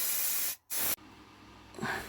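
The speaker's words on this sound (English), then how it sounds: "I'm using Halford's Grey spray paint." Halfords grey primer spray paint hissing from an aerosol can in loud, steady bursts, with a brief pause, then a quieter spray and a final short burst.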